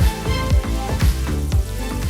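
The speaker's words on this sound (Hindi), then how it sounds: "हम अब हमारी टिक्कियों को शैलो फ्राई कर लेंगे" Tikki patties shallow-fry in a pan with a loud, close sizzle. The crackle swells in rhythmic bursts about every half second, as if they are being pressed or shifted, and no voices are heard.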